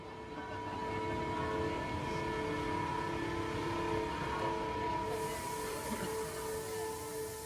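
A high-speed train rushing through a tunnel gives a steady, loud rumble with droning tonal hum and wheel roar, holding even for several seconds with no voices.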